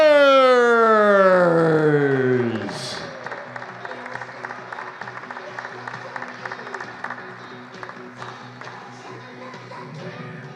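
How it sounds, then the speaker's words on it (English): Applause fills an indoor table tennis arena for the Bay Area Blasters of Major League Table Tennis, a steady patter of clapping that follows a loud descending siren-like swell at the start and thins gradually toward the end. "A big round of applause for the Bay Area Blasters!"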